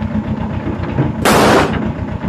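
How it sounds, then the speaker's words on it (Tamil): A Diwali firecracker bursts outdoors during a family celebration at home: a single sharp, loud blast lasting about a third of a second, rising abruptly out of steady background noise. "ஸோ கையில தான் வச்சு பட்டாசு வெடிக்கக்கூடாது."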